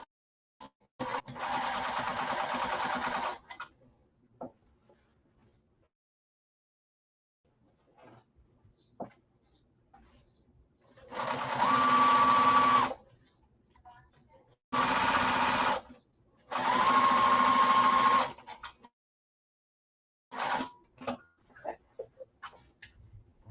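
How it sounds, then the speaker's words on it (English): A sewing machine back-stitching a slouch bag runs in several loud bursts, some long and some short, separated by quiet pauses with light handling noises. "Don't forget to back stitch at the start and the stop."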